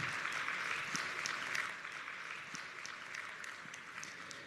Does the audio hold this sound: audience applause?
yes